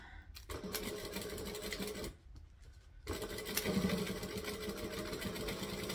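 A sewing machine stitches through fabric lining in fast mechanical bursts, with two short pauses between runs, heard fairly close and quiet with no talking.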